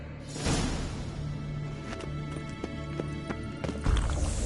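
A horse in The Witcher 3: Wild Hunt gallops in a rapid, regular rhythm of hoofbeats, close and prominent, with a brief snort or whinny-like burst near the end.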